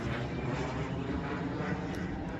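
An airplane passes overhead, a broad continuous engine roar that holds at a fairly even moderate level throughout.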